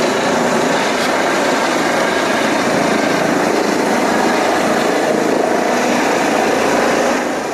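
A helicopter rotor beats loud and close in a continuous whirring roar, holding steady throughout and easing off slightly at the very end.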